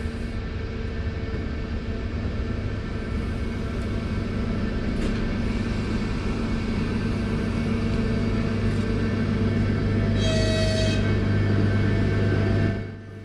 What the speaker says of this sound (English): Our new electric loco has a top speed of 120 km per hour and will haul the 2 remaining coaches of this service